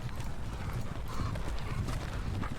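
Horses trot across a Thirty Years War wargame battlefield at Breitenfeld, a dense, steady clatter of hooves with faint whinnies mixed in, continuous and fairly loud throughout with no talking.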